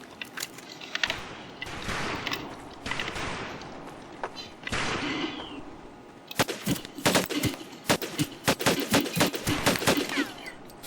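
An M1928A1 Thompson submachine gun fires in Medal of Honor Pacific Assault, with scattered shots and thuds giving way to a rapid string of loud, sharp bursts near the end.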